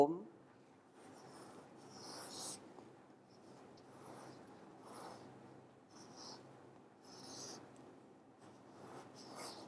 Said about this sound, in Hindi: मैं इस वेद मंत्र को पहले लिखता हूँ